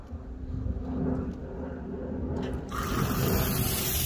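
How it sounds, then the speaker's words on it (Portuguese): A shower in a small 4x4 trailer camper is switched on, a low background hum giving way after a couple of seconds to a sudden, steady hiss of running water spraying close by. "Eu vou abrir a ducha para vocês verem agora já"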